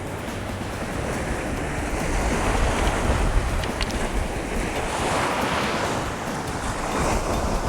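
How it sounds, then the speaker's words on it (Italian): Strong wind and rough surf on a sea shore in a summer storm merge into a loud, continuous roar of crashing waves and rushing air, steady throughout with no voices. "si è messo il vento, si è mosso il mare"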